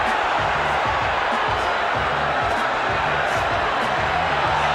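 Spectators at a boxing match roar continuously, a thick, loud wash of crowd noise with a steady low thumping pattern underneath.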